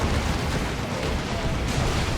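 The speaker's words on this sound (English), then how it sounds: "There's a Manticore Strike though" A Manticore rocket artillery strike lands in the video game Dawn of War 2, a dense, loud, continuous roar of explosions and rumbling impacts filling the whole moment with no let-up.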